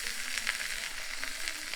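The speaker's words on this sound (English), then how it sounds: "You want to hear that sizzle." Fish sizzling in hot oil, a steady crackling hiss with small pops throughout, close and continuous with no talking.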